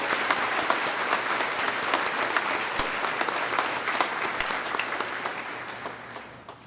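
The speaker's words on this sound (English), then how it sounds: "well-deserved round of applause." A large crowd applauds graduates at a summer commencement ceremony, producing sustained, dense clapping that stays full and even before easing off slightly at the end.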